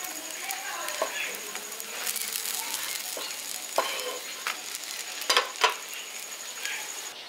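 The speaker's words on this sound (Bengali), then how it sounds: "এবার এগুলো তুলে নিচ্ছি আর বাকিগুলোও সেমভাবে ভেজে নিচ্ছি।" Bread slices frying in ghee in a pan for a village-style shahi tukda, giving a steady soft sizzle with occasional clinks and stirring scrapes as pieces are turned and lifted out.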